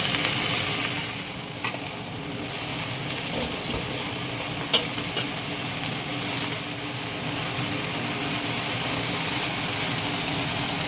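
Washed, chopped amaranth leaves hit a hot pan and sizzle with a steady, loud frying hiss, broken by a few sharp clinks and stirring scrapes, with no voices.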